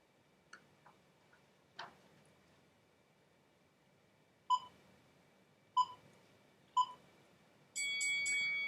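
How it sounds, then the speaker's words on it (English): A kitchen-style timer being set: a few faint ticks, then three clear evenly spaced beeps, followed by a sustained electronic beeping alarm at the end, quiet and close with no talk. "I'm setting the timer."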